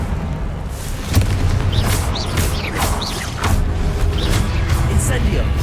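Repeated Confringo blasting spells explode in Hogwarts Legacy combat, a run of heavy booms and crackling blasts with sharp whooshing streaks between them, loud and close over a constant rumbling battle din.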